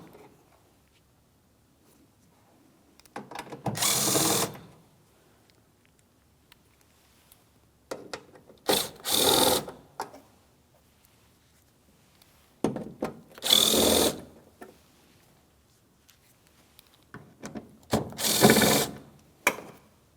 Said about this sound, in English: we're looking for each one of our Phillips head mounting screws. We can start removing these as we make our way around.